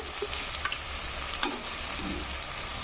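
Ginger fried in a pan for a bottle gourd and poppy seed dish gives a continuous close sizzle with a few light clicks and one sharper spoon tap, and no voices.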